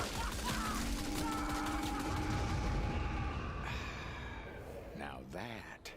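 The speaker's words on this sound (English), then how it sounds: "Like this SG-12 breaker assault shotgun." An SG-12 Breaker assault shotgun fires in a sci-fi combat game, with rapid booming blasts amid chaotic battle noise, tonal effects and a voice exclaiming near the end.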